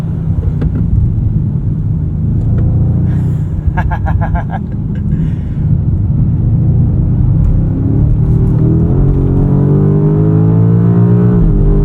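A 2025 BMW M5 with four-wheel drive is driven hard around a race track, its engine a loud, continuous droning roar that swells as it pulls out of corners, with a rising pitch near the end.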